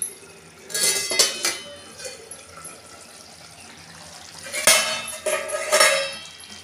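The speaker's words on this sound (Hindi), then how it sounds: "ढक्कन उठाएंगे हम।" Metal clinks and clatters as the lid comes off a cooking pot of pumpkin simmering in water on a home stove, two bursts of clanking with quieter kitchen noise in between.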